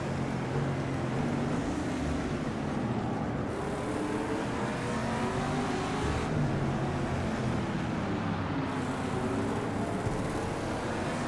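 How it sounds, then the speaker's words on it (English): A racing car engine roars steadily in Project CARS 2, an Aston at Silverstone, its pitch dipping and stuttering briefly as traction control kicks in through a tight hairpin. "You hear the traction control kick in through that hairpin."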